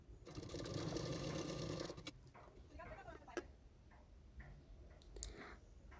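A sewing machine stitches a piece of a two-piece katori blouse in a steady close whirring run, then stops for softer ticks, clicks and handling noises, with someone speaking quietly.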